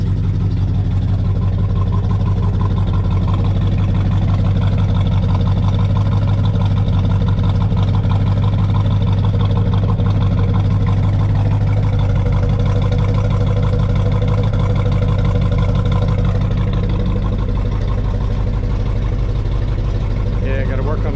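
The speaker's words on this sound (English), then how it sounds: "Let's see what the exhaust sounds like." A 1969 Chevelle SS with factory exhaust idles after a cold start, a loud, steady low rumble held close for about twenty seconds without letting up.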